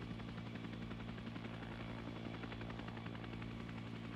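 Steady rotor thrum of a helicopter in a video game, flying continuously at an even level with harmonic drone throughout, no talk.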